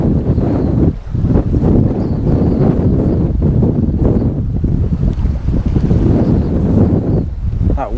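Strong, steady wind roaring across an open shoreline at Sully Island in South Wales, buffeting the microphone loudly with gusts and a constant rumble, with faint surf and water sounds beneath and no talking.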